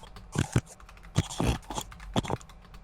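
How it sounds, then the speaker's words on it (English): Clacking keystrokes on a mechanical computer keyboard come in quick irregular bursts, close and crisp, with no talk. "Now you just listen to my mechanical keys"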